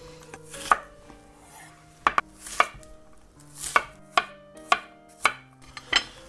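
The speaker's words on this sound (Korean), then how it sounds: "양파는 그냥 사각으로, 요것도 한 1cm 정도 잘라 줄게요." A knife chops onion into 1 cm squares on a cutting board for a warm salad, about ten crisp, irregular strikes close up, with no voices.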